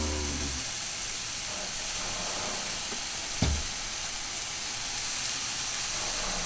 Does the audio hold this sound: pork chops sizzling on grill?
yes